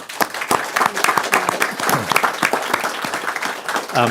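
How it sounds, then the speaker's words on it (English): Audience applause at a city council regular meeting, a full burst of clapping lasting several seconds with a voice briefly heard over it. "So let's give Ray Bowman a round of applause."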